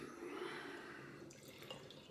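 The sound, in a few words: session IPA beer being poured into a glass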